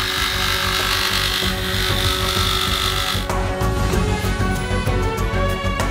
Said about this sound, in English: and then cut the pipe with a jigsaw.